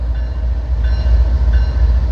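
FECR freight train, roughly a mile and a half long, rolling past slowly as it starts to pick up speed, a deep steady rumble with faint wheel squeal, loud and close, no voices.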